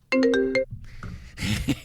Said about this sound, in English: Ding! My phone disagrees.